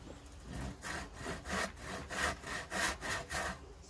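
A hand saw cuts through pallet wood in steady back-and-forth strokes, each rasping stroke loud and close, about eight strokes in quick rhythm with no talking.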